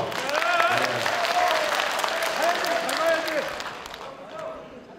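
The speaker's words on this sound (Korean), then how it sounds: "박수 한번 쳐주십시오." Applause from the audience at a 2012 Gangjin county by-election candidate debate, steady clapping under a man's speech, fading toward the end.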